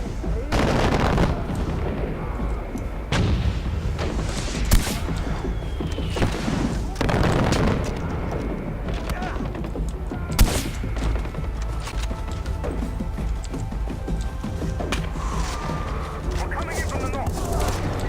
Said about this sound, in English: they're still mortaring, aren't they?